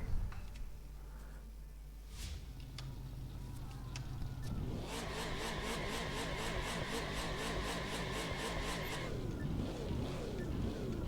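A car in The Crew 2 accelerates hard with boost in fifth gear, its engine rising into a loud, sustained whine with rhythmic pulsing, then cutting off abruptly, after a quieter stretch of idle engine and clicks.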